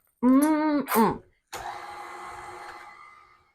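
An electric mixer whirs steadily for about two seconds, blending brown sugar into a chocolate pound cake batter. A short burst of voice comes just before it, and the whir fades toward the end.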